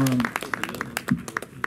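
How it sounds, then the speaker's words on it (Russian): Sparse hand clapping from an audience at a drummers' prize-giving, a handful of separate claps following a voice, thin and uneven rather than a full ovation. "Ребят, бурные аплодисменты."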